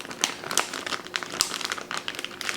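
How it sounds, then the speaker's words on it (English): A plastic bag holding chicken breasts is closed up and crinkled by hand, giving a close, busy run of crisp crackling and rustling bursts. "I'm just gonna close this bag up so nothing flies out of it."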